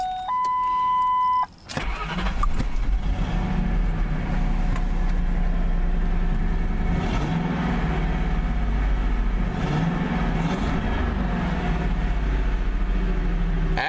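A truck engine turns over and catches after a starter repair, then settles into a steady, rumbling idle that runs on with only slight variation, close by.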